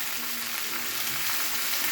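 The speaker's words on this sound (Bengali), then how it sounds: "ভালো করে নাড়াতে হবে, যাতে পেঁয়াজটা তেলটা সব জায়গায় লাগে" Onions frying in oil for a Bengali fish curry give off a steady, close, dense sizzle that holds evenly throughout, with no voices.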